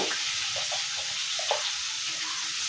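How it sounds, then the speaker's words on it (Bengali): Potatoes fry in oil in a pan for a rohu fish curry, making a steady hissing sizzle with a few soft clinks close by, with no speech. "পেঁয়াজ ভেজে নিয়েছি, আলুটা ভেজে নিচ্ছি"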